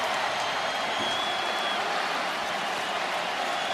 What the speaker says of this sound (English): this crowd in Athens is fired up and smelling blood